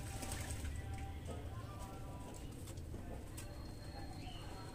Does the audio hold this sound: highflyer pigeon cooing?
yes